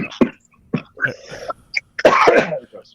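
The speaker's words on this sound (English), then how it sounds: "Now I'm trying not to cough, and I can't stop." Someone coughs repeatedly in close, harsh bursts, irregular and throaty, ending in a longer rough fit of coughing.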